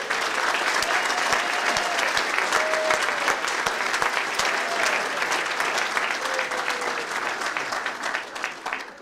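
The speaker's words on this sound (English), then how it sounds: "And I want a nice round of applause for our staff." Banquet audience at a country club applauding the staff during a high school sports hall of fame dinner, steady dense clapping filling the room throughout, fading slightly at the end.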